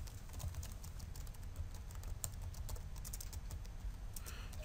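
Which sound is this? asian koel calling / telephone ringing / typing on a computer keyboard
typing on a computer keyboard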